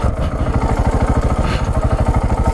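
A KTM 690 Enduro single-cylinder engine thumps steadily and loudly up close on a steep dirt trail, its rapid, even pulses running throughout without talk.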